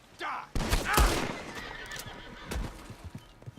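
A horse in the Red Dead Redemption video game whinnies loudly and close, with clip-clop hoofbeats and galloping noise mixed with other game sounds.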